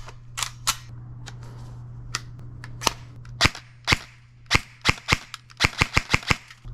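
Airsoft M4 rifle shots crack out as sharp snappy pops, scattered at first, then coming in quicker bursts, close and distinct over a faint hum.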